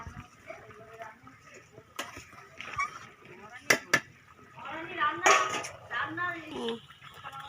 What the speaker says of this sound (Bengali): ভালো করে একবার নেড়ে দেবে।